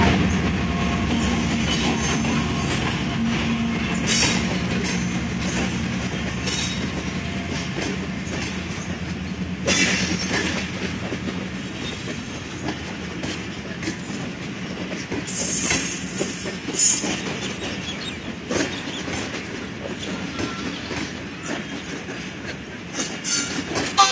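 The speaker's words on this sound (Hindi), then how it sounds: "यहाँ पर एक बहुत ही ज़बरदस्त मंज़र देखने को मिल रहा है। एक ट्रेन इस तरफ आ रही है तो दूसरी इस तरफ।" Two trains pass each other, one of them the 14 Down Awam Express hauled by a GU 30 locomotive, producing a continuous loud rumble with rhythmic wheel clatter, squealing wheels and bursts of rail noise throughout.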